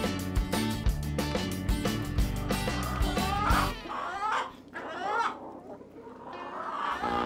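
Hens and roosters in a henhouse cluck and squawk in a busy, overlapping chorus, at first under loud music, then heard more on their own with rising, squeaky calls close by.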